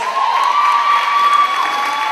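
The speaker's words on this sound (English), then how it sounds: "Big round of applause for Dodge and Bolt." A crowd cheers and applauds at a roller derby bout between Canberra Roller Derby League and Sun State Roller Girls, with a steady wash of clapping and shouts plus a shrill whistle-like tone ringing through.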